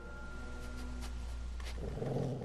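In a Walking Dead Season 2 video game scene, a dog gives a low, rumbling growl over a steady background drone, swelling slightly toward the end.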